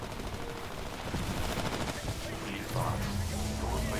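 Dense rapid gunfire from the shooter video game Titanfall, loud and sustained throughout with bursts of automatic fire and heavier shots layered under faint background talk.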